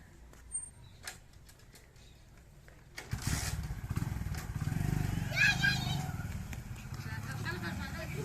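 A motorcycle engine rumbles steadily nearby from about the three-second mark onward, starting after a quiet stretch with a few faint knocks, while people talk over it.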